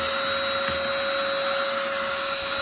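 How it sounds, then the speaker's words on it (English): A Bossdan cordless handheld vacuum cleaner runs with a steady, even whine and motor hum, close and constant from start to end, with no speech over it. "I'm also going to show you how it vacuums up"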